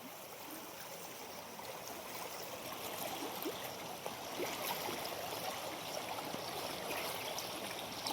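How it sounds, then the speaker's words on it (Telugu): A flooded stream rushes in a steady, fairly faint broadband roar of churning water, continuous and even throughout with no voices. "చాలా భయంకరంగా పారింది ఇది వాగు"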